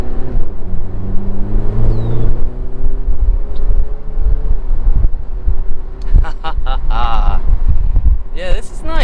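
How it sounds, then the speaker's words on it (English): A 2019 BMW Z4 sDrive30i accelerating on the road, heard from inside with a loud, rising engine drone and wind noise throughout; speech-like chatter and bursts of higher sound appear near the end. "This is a decently fast little car."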